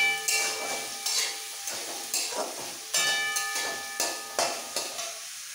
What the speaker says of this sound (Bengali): এবার খুব ভালো করে গাজর আর বিনসটা ভাজতে হবে